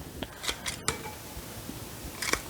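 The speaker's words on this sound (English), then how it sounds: "You can use the scissors too on some" Hand scissors snip at a lemon cypress topiary, a few sharp, close clicking cuts scattered irregularly over quiet rustling.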